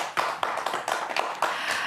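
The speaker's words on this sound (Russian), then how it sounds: "Ваши аплодисменты, дорогие друзья" Audience applause for guests on a Gomel evening variety show, a short burst of light, scattered clapping heard alone at moderate distance.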